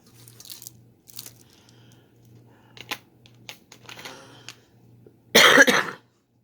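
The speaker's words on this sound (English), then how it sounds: "But I'm doing less coughing." A loud, harsh cough bursts out near the end, after quieter scattered rustles and clicks over a low steady hum.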